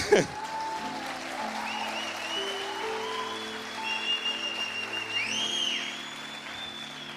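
Church congregation at a parents-and-children conference applauding steadily for the full stretch, a dense even roar of many hands over a soft sustained keyboard pad, with no clear voices.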